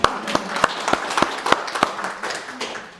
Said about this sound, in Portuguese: Uma salva de palmas para ti